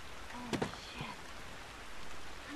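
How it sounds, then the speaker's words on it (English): Rain in The Last of Us video game, a faint, steady hiss of falling drops with a couple of brief clicks early on, heard alone. "This rain ain't gonna do us any good."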